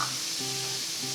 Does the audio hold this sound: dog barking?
no